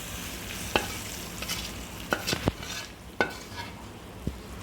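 Oil tempering sizzles in a kadai for a tamarind-leaf, green chilli and peanut chutney, with a faint steady crackle and several sharp spoon clinks and stirring knocks standing out at intervals.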